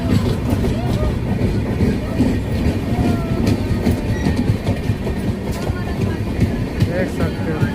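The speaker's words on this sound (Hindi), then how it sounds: "पैरेलल ओवरटेक करती है हमारी स्पेशल ट्रेन को" Express train overtaking on a parallel track beside a special train from Anand Vihar, a steady loud rumble of rail noise and wheel clatter throughout, with voices talking over it.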